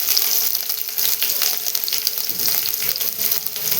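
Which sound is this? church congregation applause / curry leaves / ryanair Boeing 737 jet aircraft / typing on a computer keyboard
curry leaves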